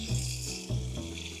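Warm water runs from a kitchen tap in two short, close bursts, splashing into a sink during household cleaning.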